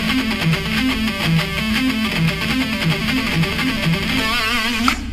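Distorted electric guitar plays a fast, sped-up triplet pentatonic rock lick, a steady repeating run of quick notes, loud and close, continuing for about five seconds with no voices.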